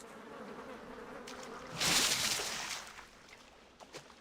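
Bees buzz steadily in World of Warcraft, a close droning hum joined midway by a loud splash into water that fades out again, followed by a couple of soft knocks.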